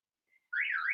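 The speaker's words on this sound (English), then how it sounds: "there's always a car alarm around here, and they won't turn it off" A car alarm sounds outside, with a faint short chirp followed by a loud, warbling siren tone that rises and falls continuously.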